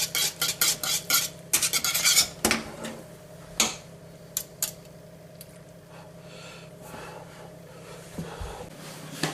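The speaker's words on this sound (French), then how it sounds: "on étale bien l'igname dans le plat pour faire une couche" Mashed yam being spread into a baking dish with a utensil for a gratin, giving a run of close scraping and clinking strokes at first, then sparser taps over a quiet background.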